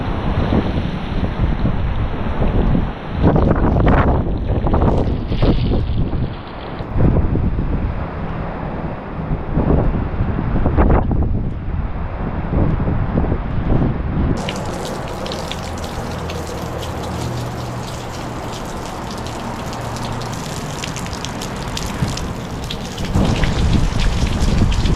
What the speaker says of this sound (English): see if we can feel the experience of being in this wind and rain